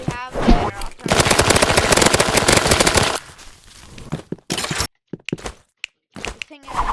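Automatic gunfire in the Roblox game Rivals, loud rapid shots lasting a couple of seconds, then scattered short bursts and thuds with gaps of silence.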